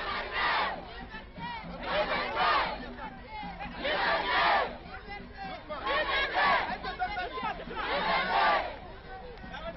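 A crowd of demonstrators chants and cheers for a coup leader in Mali in rhythmic, swelling waves of massed voices, several loud surges in a row.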